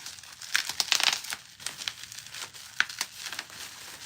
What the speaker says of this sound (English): So I'll just unwrap this to show you.